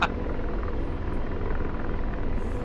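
Helicopter in the flight simulator DCS World, a steady loud rotor and engine drone with a dense low rumble, continuous and close, no talking over it.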